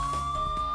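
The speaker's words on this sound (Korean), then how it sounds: "밸브 개방 표시 등 점등과 사이렌 경보" Siren alarm from a fire sprinkler preaction valve opening, a steady continuous electronic tone sounding loudly for under a second.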